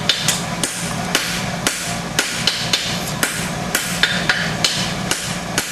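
Steady hammer blows on hot metal as a bevel is forged along the edge of a piece, roughly a dozen sharp ringing strikes in an even rhythm, close and loud, with no talking.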